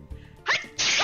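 A person sneezes once, close and loud: a short breathy catch followed by a sharp explosive burst of air.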